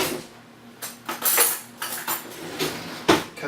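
Metal cutlery clinks and scrapes against a plate or pan while cutting through freshly baked Carbquik biscuits, a series of sharp close taps and scrapes in an irregular rhythm with quiet gaps between, no voices.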